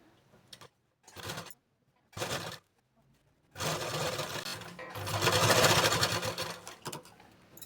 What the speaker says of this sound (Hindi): यहाँ पर हम सिलाई लगा देंगे, कच्ची सिलाई लगाएंगे